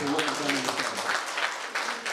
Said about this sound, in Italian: il primo applauso ve lo chiedo per il circolo